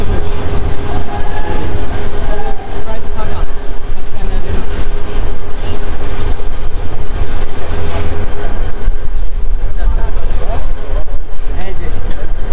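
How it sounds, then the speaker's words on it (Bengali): A passenger train pulls out of Satkania railway station on the Chattogram to Bandarban line, a loud, steady rumble and rattle of wheels and carriages that fills the whole stretch without a break. "আমাদের এখন ট্রেন চলে যাবে"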